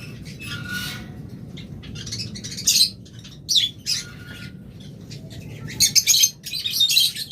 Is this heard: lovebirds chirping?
yes